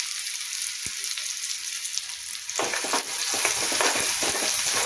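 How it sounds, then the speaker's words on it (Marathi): Finely chopped onion hits hot oil for a Konkani-style green pea usal. A quieter hiss swells abruptly into a louder, crackling sizzle with stirring scrapes, close and continuous, with no voices. "कांदा आपण गोल्डन ब्राऊन कलर होऊन तोपर्यंत आपण त्याला परतून घ्यायचं"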